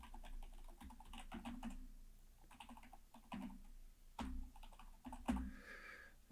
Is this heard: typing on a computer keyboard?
yes